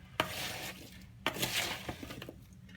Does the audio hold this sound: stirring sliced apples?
yes